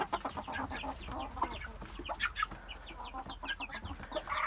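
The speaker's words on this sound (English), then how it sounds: "He's one of our aggressive silkies." Silkie chickens, including an aggressive rooster, cluck and chatter in quick, busy bursts close by, several birds overlapping in a continuous farmyard murmur over a low background rumble.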